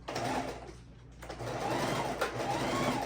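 A sewing machine runs steadily, stitching a quarter-inch seam on a pastel house quilt border. The motor hum is close and continuous, with one short slowdown near the middle before it picks up again.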